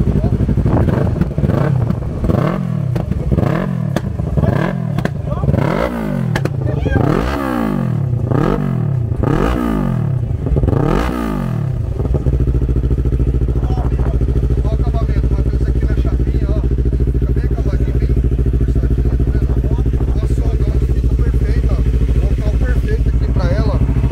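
A Yamaha MT-03 motorcycle fitted with a GRS full stainless-steel exhaust revs loudly and repeatedly in close, rhythmic blips for about twelve seconds, then settles into a steady, rumbling idle, with voices faintly audible around it.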